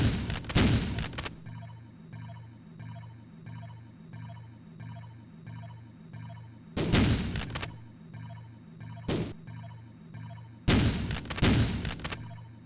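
Bursts of gunfire in the 1993 Bullfrog game Syndicate on the Commodore Amiga, three loud blasts spread over a steady, pulsing low synth music loop, with short sharp shots in between.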